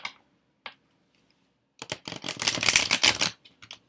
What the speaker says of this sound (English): I will go ahead and shuffle them, the cards